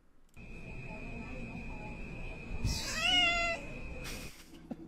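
A cat meows a few times, with a drawn-out wavering call in the middle, over steady background noise and a faint continuous hum.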